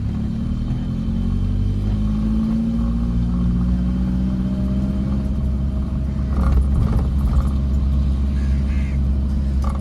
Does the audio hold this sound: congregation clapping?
no